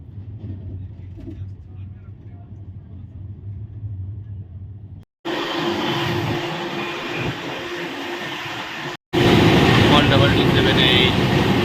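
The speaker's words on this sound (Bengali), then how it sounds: "আর এখন পুরী স্টেশনে অ্যারাইভ করছে 12837 পুরী সুপারফাস্ট এক্সপ্রেস" The 12837 Puri Superfast Express pulls into Puri station with a low rumbling roll of rail cars, faint at first and then growing loud and broadband after a cut, with voices talking over it.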